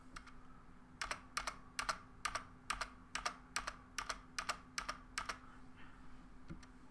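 Typing on a Logitech G413 mechanical keyboard, sharp clicky keystrokes in quick clustered bursts, close and clear over a faint steady hum, with no talking.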